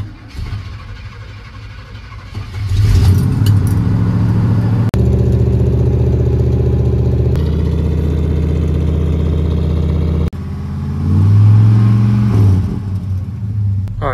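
A GMC truck engine cranks and catches, then runs with a steady, loud rumble that swells briefly as it is revved, recorded close by with no voices.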